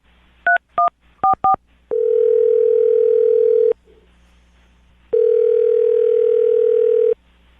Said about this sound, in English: dial the phone number right now, get her on the phone